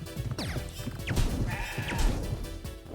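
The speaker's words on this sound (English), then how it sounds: "Goats." Goats bleat in a video game, several wavering cries overlapping one another against dense game sound.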